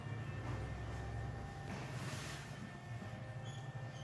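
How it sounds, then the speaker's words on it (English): Trains and metro cars in the Subway Surfers mobile game produce a continuous rumbling rail roar with wheel noise, steady and dense throughout, with no voices. "I'm playing Subway Surfers. It has too much trains, metros."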